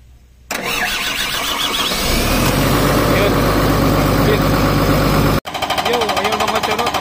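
A Cat C6.4 diesel engine cranks and fires up after a fuel injection pump replacement, building from starter churn into a loud, close, rough running roar that breaks off briefly and then resumes with a rattling beat.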